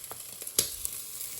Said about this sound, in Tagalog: igigisa natin yung luya at sibuyas